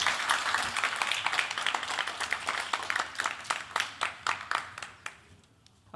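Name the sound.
audience applause for speaker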